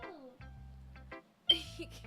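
A pet cat meows a few short times indoors, the calls fairly close with brief pauses between them, and a person briefly speaks nearby.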